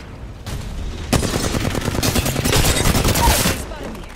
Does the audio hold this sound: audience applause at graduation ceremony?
no